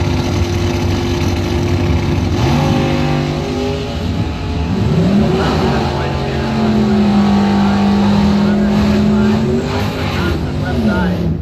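An 85 Ford Mustang and a 67 Chevy C10 truck launch at a drag strip, engines roaring and revving hard with rising pitch sweeps as they pull away, loud throughout with crowd and announcer noise beneath.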